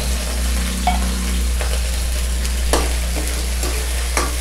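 Canned sardines frying in a pan with sautéed onions, a close, steady sizzle with occasional stirring clinks and scrapes, no talking.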